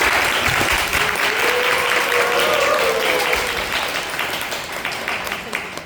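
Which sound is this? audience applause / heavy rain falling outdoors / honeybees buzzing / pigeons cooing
audience applause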